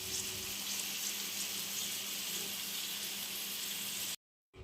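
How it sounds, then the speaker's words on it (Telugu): Paneer pieces frying in a pan with salt, chili powder and turmeric, a steady broadband hiss of sizzling oil running evenly throughout, then cutting off abruptly near the end. "ఇప్పుడు అదే ప్యాన్లో పన్నీర్ ముక్కలు వేసి కొంచెం సాల్ట్, కారం, పసుపు వేసి ఒక 2 మినిట్స్ వేయించండి"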